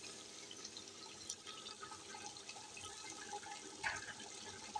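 Water is poured into a cooking pot for a pulao made with 1 kg of rice, a faint, steady splashing and trickling with a few small drips and gurgles, heard alone and fairly quiet.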